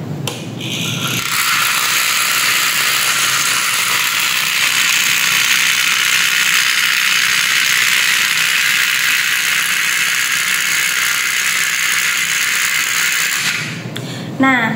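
A string vibrator in a Melde's law physics lab experiment buzzes loudly and continuously after being switched on, a steady rattling mechanical drone lasting about twelve seconds before cutting off.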